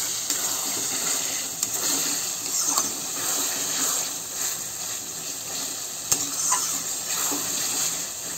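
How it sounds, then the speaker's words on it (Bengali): Fried eggplant pieces being stirred and sautéed with a little water in a pan, a steady soft sizzle and hiss with occasional scraping stirs, no talking. "বেগুন ভাজা কাটা দিয়ে ভালো করে কষাই নেব।"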